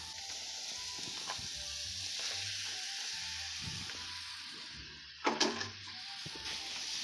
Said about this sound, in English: in goes the ground meat